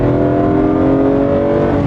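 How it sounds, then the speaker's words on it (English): A BMW M car's engine pulls hard under acceleration, its loud, steady induction roar and layered harmonics sustained throughout with no voices. "The induction noise is just biblical."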